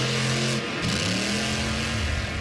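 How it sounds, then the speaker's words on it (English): Monster truck engine revving in a radio ad, a loud, steady mid-pitched growl that rises in pitch toward the end, heard alone without talk. "You can even stream it at a monster truck rally."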